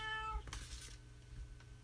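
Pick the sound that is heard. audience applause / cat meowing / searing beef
cat meowing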